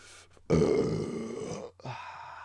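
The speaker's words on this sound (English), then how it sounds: "So that's what that burp was from." A long, loud burp after drinking cider from the bottle, a low guttural rumble lasting about a second, followed by a short quieter grunt.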